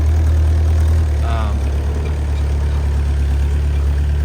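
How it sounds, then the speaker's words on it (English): Kubota 25-horsepower diesel engine of a WOLF MINI 780H compact wheel loader idling nearby, a steady low droning hum running unchanged throughout, with a brief faint voice early on. "Again, Kubota diesel engine, very solid."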